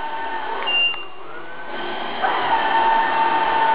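An A320 robot vacuum cleaner whirs steadily as it turns around a table, a close, even mechanical hum with a higher whine that shifts slightly in pitch as it maneuvers, with no voices.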